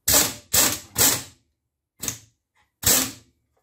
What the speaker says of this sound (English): now we'll get our wrench in here again